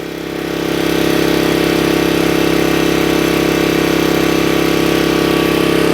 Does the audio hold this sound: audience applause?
no